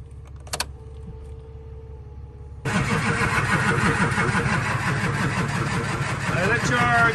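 A first-generation Cummins diesel truck engine cranks and then fires up, settling into a loud, rough, steady idle after a quiet moment with a brief click at the start.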